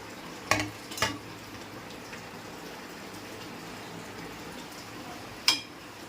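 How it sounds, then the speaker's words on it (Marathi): Pasta is stirred into a masala paste in a pan, with a few sharp spoon-against-pan clinks near the start and end over a faint, steady background hiss, quiet and close. "पास्ता पूर्ण मसाला मिक्स झाला पाहिजे."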